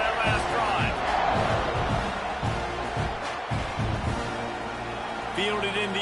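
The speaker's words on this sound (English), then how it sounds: "this crowd is feeling themselves after that last drive" A stadium crowd cheers and roars in the NCAA 26 college football video game at a kickoff, a dense, loud wash of noise under a commentator's steady play-by-play voice.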